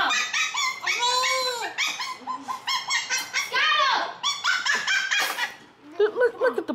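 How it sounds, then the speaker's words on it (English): A puppy whimpers and yips in high, pleading cries, with short barks mixed in, close by and continuous. "Look at the puppy. Trying to get out"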